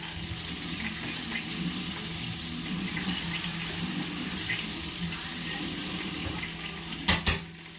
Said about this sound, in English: Let me rinse my hands and my knife really quick.